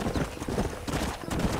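A horse gallops in Red Dead Redemption, its hooves drumming in a quick, steady clip-clop close by and loud throughout, with no voices over it.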